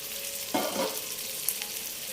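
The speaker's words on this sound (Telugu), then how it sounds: "ఈ బీరకాయ ముక్కలన్నీ కూడా ఈ విధంగా ఆయిల్లో వేసేసుకొని ఇప్పుడు మూత పెట్టి ఉడికించుకోవాలి" Ridge gourd pieces frying in oil give a steady soft sizzle, with a brief louder burst of frying noise near the middle, close and without talk.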